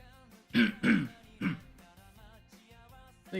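A person coughs and clears their throat in a quiet indoor room, three harsh bursts in quick succession, the first two close together, close to the microphone with a faint hum underneath.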